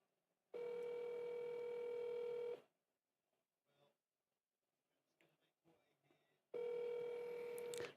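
A phone call's ringback tone plays as someone is being called, giving two long steady electronic tones a few seconds apart, with faint muffled sounds in the quiet gap between them.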